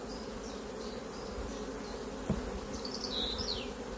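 Honey bees buzz around an open hive during a spring honey harvest, a dense, steady drone close by, with individual bees whining past and one brief knock partway through.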